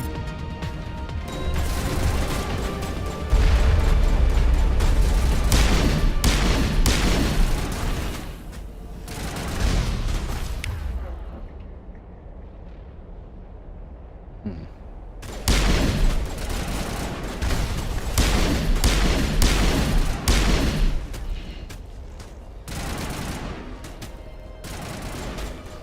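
Sustained gunfire and rocket blasts in a Mass Effect 1 battle on Xbox, dense bursts of shots and booms that pause in a brief lull before erupting again.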